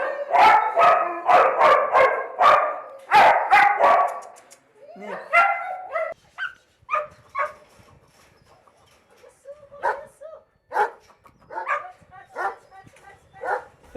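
Dogs, among them German shepherd, Doberman, Rottweiler and terrier breeds, bark loudly in a rapid series of close bursts for about four seconds, then quieter scattered yips and whimpers follow.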